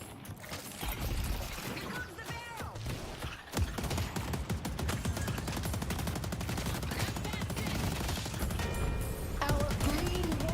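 Automated turrets in a video game fire in long, sustained mechanical bursts that fill the whole stretch, loud and steady, with occasional clanking mechanisms and brief electronic tones over the shooting.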